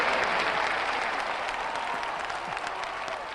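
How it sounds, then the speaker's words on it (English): Crowd cheering and applause sound effect played from a synth during a live music-gear stream, a dense, steady roar of clapping and voices lasting a few seconds at full level. "Crowd cheer."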